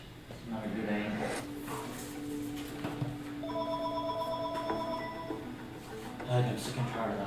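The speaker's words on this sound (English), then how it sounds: "I'm sick and tired of that phone." Telephone ringing repeatedly in a room, its bright tonal rings sounding partway through amid talking voices and background game noise.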